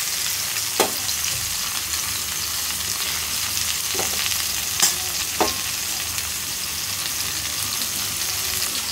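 Hilsa fish sizzle steadily in mustard oil, a close and even crackling hiss broken by several sharp clinks and scrapes of a utensil as the pieces are stirred and turned. Nobody talks.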